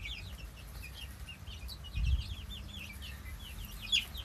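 Chicks and chickens clucking and peeping in a rural yard just after being let out of their cage, several small chirps and clucks close by over a steady low background hum.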